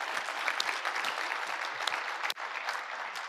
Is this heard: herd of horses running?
no